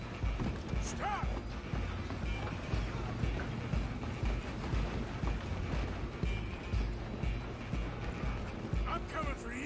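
A train running in Red Dead Redemption 2, a steady rattling, creaking clatter of rail cars and running gear that stays loud and constant, with brief faint voices over it.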